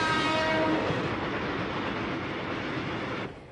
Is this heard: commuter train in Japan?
yes